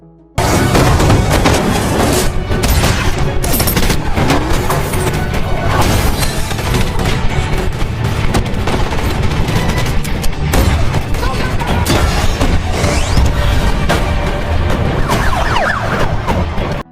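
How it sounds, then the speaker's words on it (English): A film shootout scene with rapid, loud gunfire bursts and booms layered over a dense action soundtrack with a siren-like wail, sustained and intense throughout. "Ray mows down the guy, taking out a few other bad guys and saves Jerry and Sarah from the mess."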